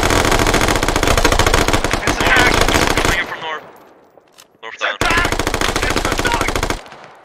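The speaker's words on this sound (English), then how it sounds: "Because just shooting all over the place." Automatic gunfire in the video game Squad during a zombie mode match, dense sustained bursts roaring for about three seconds, a brief quieter gap with a faint sound, then another long loud burst that cuts off abruptly.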